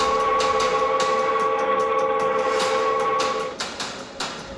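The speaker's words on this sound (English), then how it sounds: "Then suddenly, unknown whistle echoed in the distance." A Clinchfield Railroad steam train whistle sounds in one long, steady tone that drops away near the end, with a few sharp knocks and clanks heard around it and no voices.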